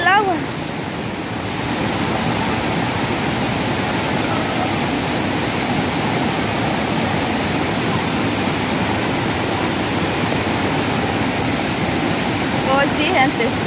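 Loud, continuous roar of a flooding river overflowing its banks after heavy rain in El Salvador, a dense steady wash close by, with people's shouts faintly breaking through at the start and end.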